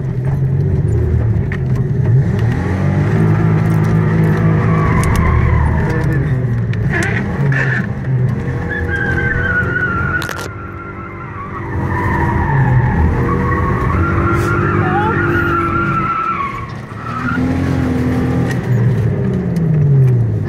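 A Nissan Maxima drifts on the road in Oman, its engine revving hard and its tires squealing and skidding in long loud bursts, with voices shouting over the noise.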